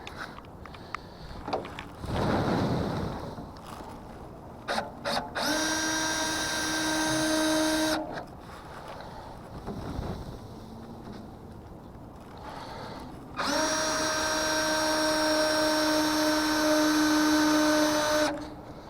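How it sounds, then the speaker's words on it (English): Power drill boring holes for a winch install, two long steady whining runs of several seconds each, loud and close, separated by handling clatter and rustling. "Holes are drilled. That part's on."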